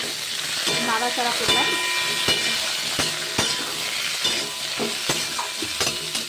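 Vegetables frying in oil as they are stirred, a constant hiss and sizzle broken by regular sharp clacks of a utensil against the pan, loud and close.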